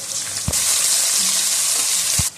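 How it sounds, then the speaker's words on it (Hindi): Garlic sizzles loudly in a hot pan as crushed tomatoes and green chillies are added, bursting into a sharp, close frying hiss between a couple of clanks. "अब इसके अंदर 2 टमाटर और 2 सब्ज़ मिर्चें कुटी हुई ये शामिल कर देंगे।"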